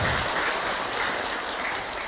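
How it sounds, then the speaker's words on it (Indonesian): Steady applause from an audience at an Islamic lecture, a dense even patter of clapping that holds at a constant loudness for a couple of seconds with no voices. "Tepuk tangan dong buat ibu yang bertanya."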